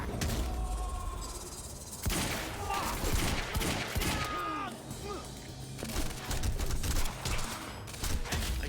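Gunfire in the Quantum Break video game, with bursts of rapid shots, cracks and shattering debris under tense game music and sound effects.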